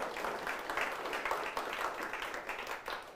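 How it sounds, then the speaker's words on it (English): An audience at the 2024 New Zealand Hi-Tech Awards finalists announcement in Auckland claps in a soft, distant, continuous round of applause, with a faint voice mixed in. "Can we give them a big round of applause?"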